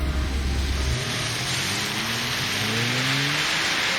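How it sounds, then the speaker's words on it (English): A car drives through rain in the Deadly Premonition Origins video game: steady hiss of rainfall over a rising engine drone that climbs in pitch as it accelerates, loud and continuous with no voices. "They are driving in the rain"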